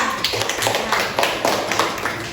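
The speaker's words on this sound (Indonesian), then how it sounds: "tepuk tangan dulu untuk Nabila" A class claps for a student named Nabila, a short burst of scattered individual hand claps with uneven rhythm, fairly close, with some talk mixed in.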